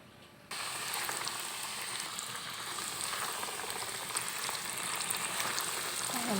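Cooking oil heating in a pan bursts into a dense, steady crackling sizzle after a quiet opening second, staying loud and even as chicken fries, with no talking.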